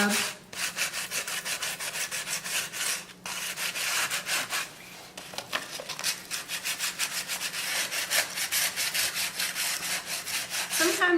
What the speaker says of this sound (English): I'm going to use the sandpaper, and I'm going to smooth the finish on it and rub a little bit of the paint off